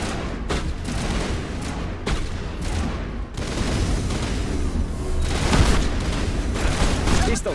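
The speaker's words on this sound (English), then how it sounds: "Maybe we should try the shotgun. Let's do the shotgun." Repeated shotgun blasts in a video game, loud booming shots arriving in irregular bursts over continuous noisy game action, with a voice speaking now and then.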